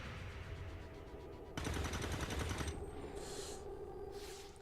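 Rapid automatic gunfire in the video game XCOM 2, a dense burst of crackling shots that cuts in sharply, followed by softer game effects; quiet overall with no talking.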